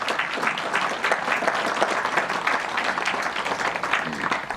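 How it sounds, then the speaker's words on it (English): Sustained applause from an audience at a prize-giving ceremony for the 2018 Afro Asia Cricket Cup, dense steady clapping filling the whole stretch without pause. "Let's give a round of applause to these young guys."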